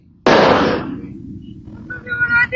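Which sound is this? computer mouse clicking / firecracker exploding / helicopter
firecracker exploding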